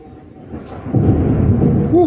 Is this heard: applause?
no